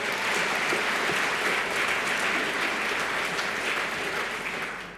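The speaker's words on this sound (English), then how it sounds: "So please give them a big round of applause for making today happen." A conference audience gives sustained applause, dense and even clapping at a moderate level that fades slightly toward the end.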